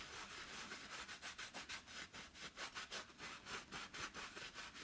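Wax being rubbed by hand onto a stained wooden sign, a rapid, regular series of close scrubbing strokes, around four per second, steady throughout and with no talking.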